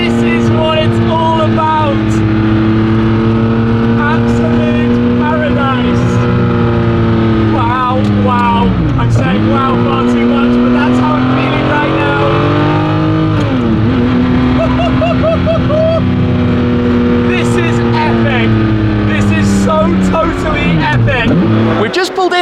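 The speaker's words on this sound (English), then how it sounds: "Ferrari F50, some more revs" A Ferrari F50's V12 revs hard on dry tarmac, loud and close, its pitch climbing and dipping in repeated sweeping surges with no gap for the whole stretch.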